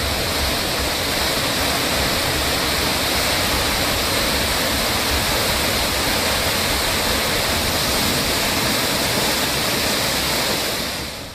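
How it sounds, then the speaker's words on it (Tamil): Waterfalls at Courtallam pour heavily after rain, a loud, dense, unbroken roar of falling water filling the whole stretch, with no voices. "குற்றாலத்தில் உள்ள 5 அருவி, பழைய குற்றாலம், புளியருவி, சிற்றருவி மற்றும் மெயின் அருவிகளில் தண்ணீர் ஆர்ப்பரித்துக் கொட்டுகிறது"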